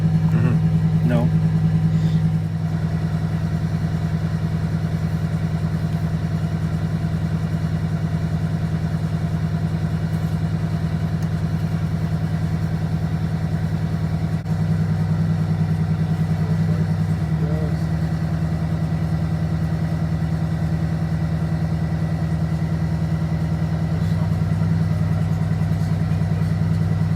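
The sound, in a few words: Detroit Diesel 8V92TA engine running in Wanderlodge bus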